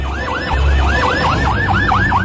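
A fire brigade vehicle's siren wails in a fast, repeating up-and-down sweep, loud and close, over a low engine rumble, responding to an Air India Flight 171 plane crash fire in Ahmedabad.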